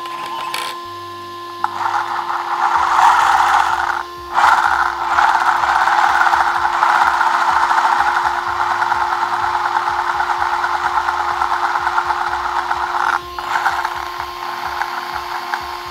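An RLAARLO AM-X12 brushless RC buggy motor runs close by with a loud, sustained whine, rattling and ticking mechanical noise throughout, briefly dipping a couple of times.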